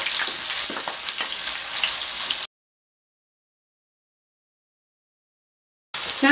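Chopped onion fries with ginger in a hot pan, a dense, loud sizzle with light stirring for about two and a half seconds. Silence follows, then the sizzle returns briefly at the end.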